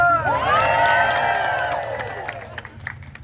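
An audience at a Disneyland holiday story-time show breaks into loud cheering and whoops, the shouts swelling at once and then fading out over a few seconds.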